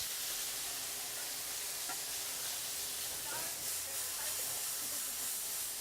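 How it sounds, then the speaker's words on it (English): Garlic sizzles in a hot pan as part of a curry shrimp dish, a soft, continuous hiss with a few faint crackles and pops, fairly quiet and steady. "We always start off with a hot pan and we get that garlic in there."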